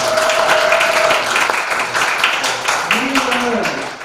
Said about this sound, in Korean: 유희 박수 한번 쳐줘요